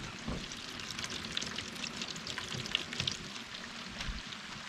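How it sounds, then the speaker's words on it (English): Rainwater from light rain runs out of a drainage pipe at a concrete-forming site, making a continuous close trickling splash with scattered drips. "I can hear it running out the pipe."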